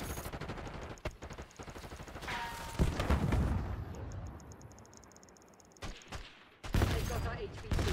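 Gunfire in a Black Ops 6 multiplayer match, dense bursts of automatic fire and sharp shots in rapid clusters, loud and close, with brief pauses and faint voice callouts beneath.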